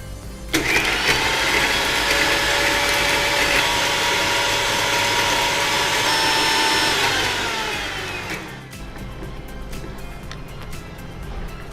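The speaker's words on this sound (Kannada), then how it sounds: "ಹಾಗಾದರೆ ಇದನ್ನು ಗ್ರೈಂಡ್ ಮಾಡಿ ಕೊಡಬೇಕಲ್ಲ?" A kitchen mixer grinder whirs loudly and steadily for about eight seconds while grinding masala for cashew chicken, then winds down to a quieter hum and rattle with no talk.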